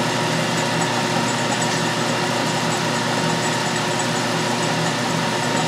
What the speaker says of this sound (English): Taking a real light facing cut on the front also, to true it up in case it was a little bit off.